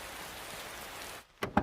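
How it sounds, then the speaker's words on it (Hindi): Steady rain hisses as a broad, even wash of noise that cuts out near the end, where a couple of brief louder sounds follow. "ओहो, अचानक से ये बारिश शुरू हो गई।"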